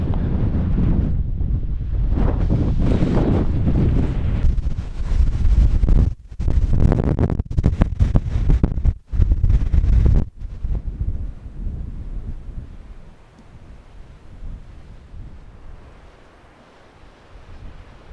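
Strong wind buffets the microphone on a Snowdonia mountainside during winter camping, a loud continuous roar that gusts and drops sharply before easing into a quieter, steadier rush.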